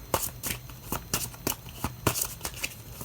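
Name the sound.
shuffling and drawing an oracle card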